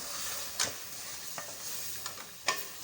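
Spiced chicken with onion and capsicum sautés in a pan with a soft, even hiss, broken by a few crisp spatula scrapes and taps.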